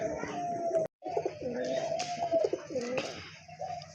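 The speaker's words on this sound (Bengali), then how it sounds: "এখানে কিন্তু আরেক জোড়া কবুতর দেখতে পাচ্ছেন খুবই সুন্দর চমৎকার এক জোড়া কবুতর" A pair of pigeons at a breeding farm coo in repeated soft, throaty phrases close by, with a short gap early on and faint chirps mixed in.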